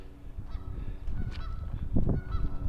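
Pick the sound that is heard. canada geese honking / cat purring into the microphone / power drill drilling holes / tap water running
canada geese honking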